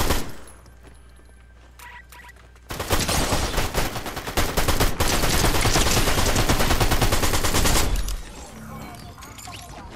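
Rapid bursts of automatic gunfire in the video game Fortnite, loud and dense for several seconds mid-clip, with quieter game ambience before and after.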